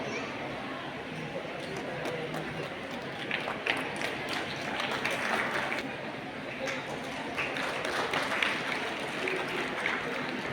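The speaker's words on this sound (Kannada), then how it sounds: "ಜೋರಾದ ಚಪ್ಪಾಳೆ ಮುಖಾಂತರ ಆ ಒಂದು ಶಿಕ್ಷಕ ಬಿಡುಗಡೆ ಕಾರ್ಯಕ್ರಮಕ್ಕೆ ಶುಭಾಶಯವನ್ನು" Continuous applause from an audience at a school prize-distribution ceremony, a steady crowd clatter of clapping with murmured chatter mixed in throughout.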